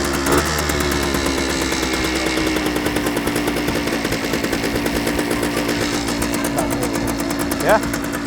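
An old Japanese barn-find motorcycle engine idles steadily with a rapid, chattering putter after starting, loud and close, with a quick throttle blip near the end and brief voices nearby.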